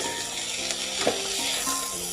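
Chopped pumpkin curry sizzling in hot tempering oil while being stirred, a steady close frying hiss with a soft scrape of the spoon midway.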